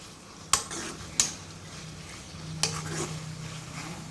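Chicken pieces and curry leaves are stirred in a pan, with a spoon clanking sharply against the metal three times over a faint, steady sizzle.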